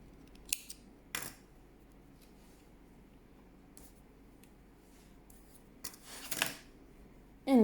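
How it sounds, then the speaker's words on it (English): Scissors snip through crochet yarn in a quiet room, a few short, sharp, close cuts spaced apart over faint background hiss. "I'm gonna cut this yarn that I'm not using because it is in my way"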